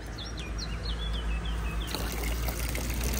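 Water pours and trickles in a continuous, fairly close stream, while small birds chirp briefly in the background early on.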